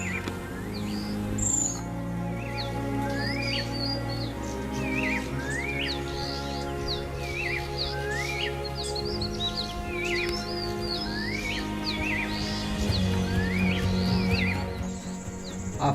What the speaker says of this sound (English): you can hear various sounds of forests, with the prominent chirping of different sorts of birds